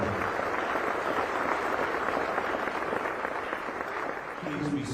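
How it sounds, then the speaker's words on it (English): An audience at the Honolulu State of the City address applauds the Honolulu Fire Department Honor Guard, a steady sustained wash of clapping filling the room, with a faint voice near the end. "Ladies and gentlemen, please, nice round of applause to the Honolulu Fire Department Honor Guard"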